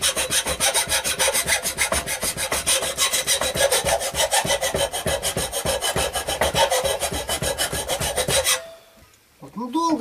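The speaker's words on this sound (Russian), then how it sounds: "Напильник, хорошо его сейчас берешь." An ordinary hand file rasps against the blade of a Yakut knife in quick, even back-and-forth strokes, loud and close, then the filing stops abruptly near the end, leaving quiet handling noise.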